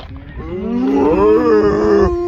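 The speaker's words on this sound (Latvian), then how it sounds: "Šeit ņemat vērā, ka šeit var būt govis" Cattle lowing on a farm on Saaremaa: one long, loud, close moo that rises and holds with a rich harmonic tone for about two seconds, then stops abruptly.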